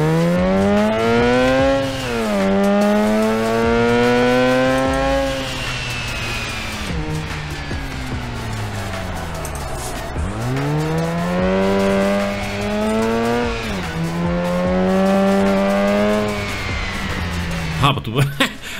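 A stock Mazda in the Drift21 driving game revs and shifts repeatedly, engine tone climbing and dropping in waves while it drives and slides, under steady talking throughout.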